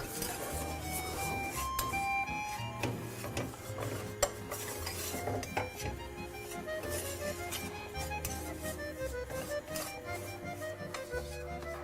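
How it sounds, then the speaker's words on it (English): Fettuccine sauce being stirred in a pan, with continuous close scraping and clinking of the utensil against the metal and faint background music. "Got to keep stirring, stirring."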